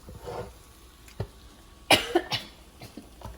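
A person coughs several times after tasting a serrano and onion salsa verde, short harsh bursts with throat clearing, close and moderately loud.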